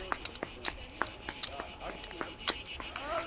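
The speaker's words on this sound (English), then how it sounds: "Cicada are singing." Steady high-pitched insect buzzing, like cicadas, runs throughout with faint scattered clicks and chirps, fairly close and continuous.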